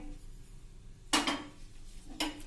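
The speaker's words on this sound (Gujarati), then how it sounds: "3 ચમચી જે રવો લીધો છે એ એડ કરી દેશું" A metal spoon knocks against a bowl while semolina is added for Gujarati phulvadi batter, two short bright clinks about a second apart, close and clear over a quiet kitchen background.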